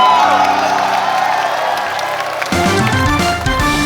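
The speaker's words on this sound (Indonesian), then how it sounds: "Boleh tepuk tangan untuk teman-teman yang ada di depan." A studio audience at an Indonesian game show cheers and whoops for two competing teams. The crowd noise sits under loud, bright background music, and the music shifts into a heavier beat partway through.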